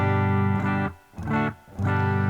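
A clean electric guitar signal played through a Boss Katana amp rings out in three sustained, harmonically rich notes or chords, each fading into a brief gap before the next, with no voices.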